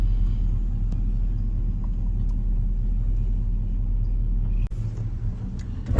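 A truck dumping a pile of wood chips makes a heavy, steady low rumble with a sharp clunk near the end, close and loud.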